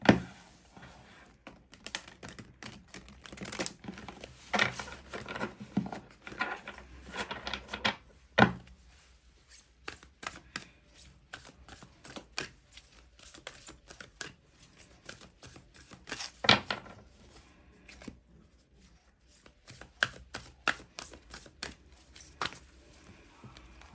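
Tarot and oracle cards are shuffled and drawn by hand at close range, with soft irregular flicks and taps in short bursts between quiet pauses, and no talking.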